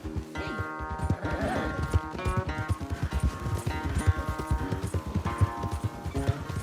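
Horses gallop hard in a race through the Red Dead Redemption 2 countryside, a dense, steady drumming of hoofbeats under a swelling orchestral score, with a brief whinny rising among the clatter.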